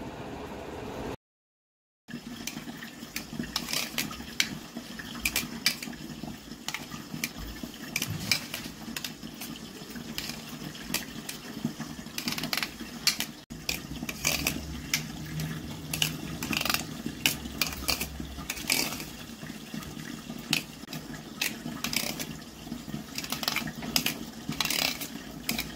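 Tutti frutti pieces being stirred with food colouring, a long stretch of repeated close clicks, scrapes and sticky rustles of a spoon moving through the pieces in a bowl, with a brief gap near the start.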